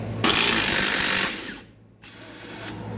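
A ratchet clicks rapidly and loudly at close range as 17mm swing arm bolts on a Honda Rancher 420 ATV are broken loose. The clicking fades, stops briefly and then resumes.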